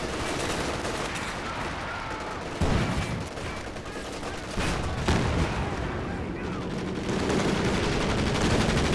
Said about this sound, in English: Get strafed there a little bit as well.